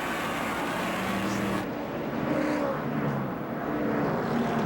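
A NASCAR stock car at Daytona exits a corner and swings wide to the outside, a steady roaring engine that swells and recedes over a few seconds, heard without speech.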